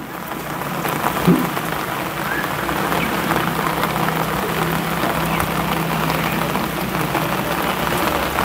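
Steady heavy rain pours onto a flooded town road in Silchar, a dense, continuous hiss of drops striking standing water that holds at an even level throughout with no voices.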